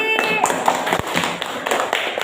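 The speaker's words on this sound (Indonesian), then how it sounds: "Tepuk tangan buat Fikri." Classroom applause, a brief patter of light clapping from a small group of pupils, close and uneven, with a sharp tap partway through and voices murmuring beneath it.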